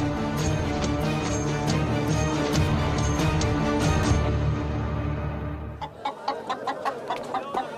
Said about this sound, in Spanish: ¡Compre mis gallinas!